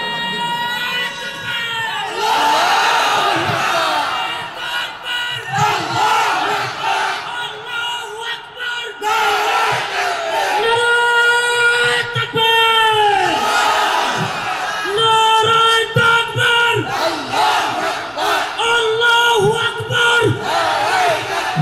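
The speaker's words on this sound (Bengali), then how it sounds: "জোরে সোরে একটা তাকবীর দেন।" A large crowd at an Islamic sermon in Khulna shouts the takbir slogan in loud unison, the call and response repeated in several powerful waves with brief pauses between them.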